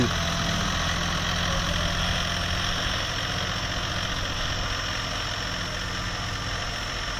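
A new John Deere tractor engine idles steadily and loudly at close range, a continuous even rumble with no voices over it.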